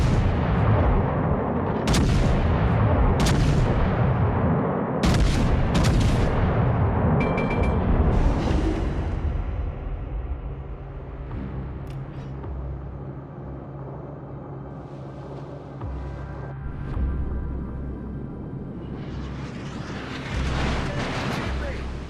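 Naval guns fire in World of Warships: Legends, heavy booming salvos with sharp cracks and rolling rumble in the first half, then quieter distant blasts and engine drone, loud and near, with game voice lines over them.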